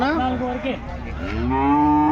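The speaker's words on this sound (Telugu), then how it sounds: "ఇక్కడ ఒకటి హెచ్ఎఫ్ దూడ అయితే ఉంది" A Holstein Friesian (HF) calf at a cattle market gives one long, loud, close moo that rises and then trails off, with no talk over it.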